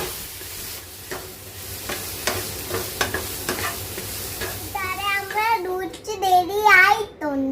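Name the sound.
stirring noodles cooking in pan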